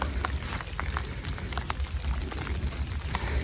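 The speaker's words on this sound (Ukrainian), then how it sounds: "Щойно я розложився, пішов дощ." Rain falling on a riverside fishing spot on the Dnipro river, a steady hiss scattered with small drop ticks and patters, continuous and fairly close.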